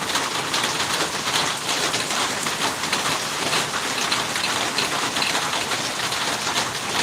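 Steady rain drums on a tin roof on a rainy day in a rural setting, a dense, even patter of drops filling the whole stretch without letup, close and fairly loud with no voices.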